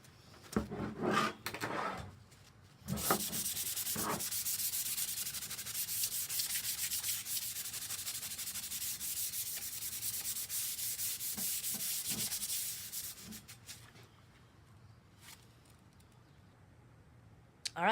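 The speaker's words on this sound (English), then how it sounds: "The table's all sanded down, ready to go." A wooden farm table is sanded with a power sander, a steady loud rasping whir running for about ten seconds, framed by brief shorter passes and scraping handling sounds before and after.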